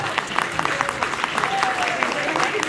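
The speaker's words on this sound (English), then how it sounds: "One more round of applause for all of our filmmakers" A festival audience at a horror shorts screening in Telluride claps and cheers for the filmmakers, a lively crowd of applause with voices mixed in.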